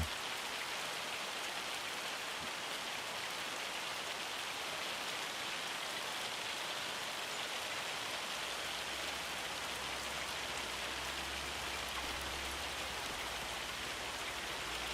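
Hail falling in a sawmill video game sounds as a dense, even patter of drops on a surface, a steady hiss lasting throughout, with a faint low hum joining toward the end.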